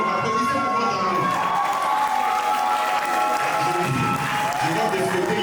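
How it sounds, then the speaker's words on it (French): An audience at a French slam poetry show applauds and cheers in a sustained burst of clapping mixed with shouts and whoops, steady and full from start to finish. "Les amoureux, applaudissez pour vos amoureux."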